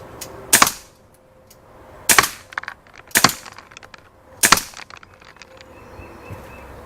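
A Daisy Powerline 426 air pistol fires four sharp, loud pops at irregular intervals, each a crisp crack with a short tail, aimed at a target about 13 yards away. No one speaks.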